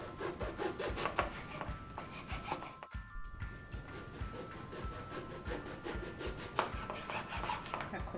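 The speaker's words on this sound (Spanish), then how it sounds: "Cortamos así en rodajitas." A knife cuts a whole eggplant into rounds on a board, making a quick, close, rhythmic run of rasping slices with one brief pause partway through.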